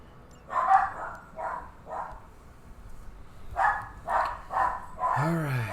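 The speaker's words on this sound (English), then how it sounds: "Let my dog stop barking." A pet dog barks in bursts of short, sharp barks, a cluster early on and another later, ending with a rising yip or whine, heard close by with a soft background hum.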